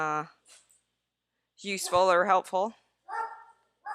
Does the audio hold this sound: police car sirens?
no